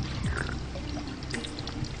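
Water pours steadily onto a hand outdoors, a continuous close splashing stream with no talk over it.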